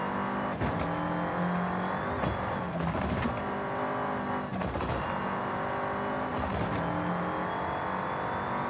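Rally car in Forza Horizon 5 held at top speed, its engine a steady, loud sustained drone with gear and mechanical harmonics running throughout and a few brief surges.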